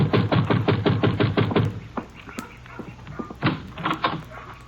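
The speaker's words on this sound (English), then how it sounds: "you better knock again" Knuckles rap on a rooming house door in a quick run of about a dozen firm knocks, then a pause and a few scattered softer raps, with faint background noise and no voices during the knocking.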